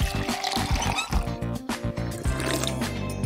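Water sloshing and gurgling in a mouth during rinsing from a cup, a series of close, wet swishing bursts with brief pauses, fairly loud and alone.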